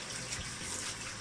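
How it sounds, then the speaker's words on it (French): A tap runs steadily while a cleaning brush is wetted at the sink, a close, continuous hissing splash of water. "Alors je prends mon savon liquide, je mets 2 gouttes, je mouille la brosse."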